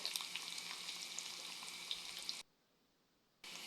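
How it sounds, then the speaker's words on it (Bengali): Onions fry in a pan for nihari, giving a steady close sizzle that stops abruptly for about a second, then resumes. "এখানে আমার পেঁয়াজটা ভাজা হইতেছে"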